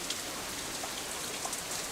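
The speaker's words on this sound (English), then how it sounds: "A symptom of the sudden rain, I'm sure." Steady rain falls in the Katawa Shoujo visual novel, a soft, even hiss of drops with faint scattered patters and no talking.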